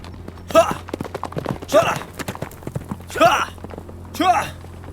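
Horses' hooves clip-clop in uneven bursts of steps amid a Chinese period drama dubbed into Hindi, moderately close, with someone speaking over them.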